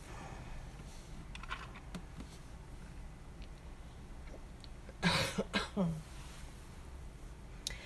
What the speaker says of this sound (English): I apologize for all the coughing, guys.